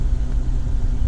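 A stock factory Hemi V8 idles with a low, steady rumble, close and fairly subdued, with no revving or voices.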